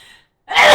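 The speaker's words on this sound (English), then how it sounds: "Ooh, I want to sneeze." A person's sneeze bursts out loud and close after a brief quiet gap, preceded by a short breathy intake; no speech.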